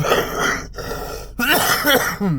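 A short throaty cough or two from a lingering two-and-a-half-week cough, followed by a voice groaning and sounding strained afterward.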